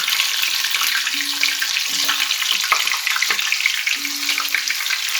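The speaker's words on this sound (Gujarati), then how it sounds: "સૌ પહેલાં આપણે શક્કરિયાને ફ્રાય કરીશું." Sweet potato pieces fry in hot oil for Kathiyawadi undhiyu, giving a steady, dense, close sizzle and crackle with faint clinks throughout.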